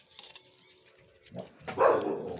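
A dog at feeding time gives a short bark and whine close by, a brief loud burst after a quieter start.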